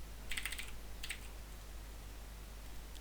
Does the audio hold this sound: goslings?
no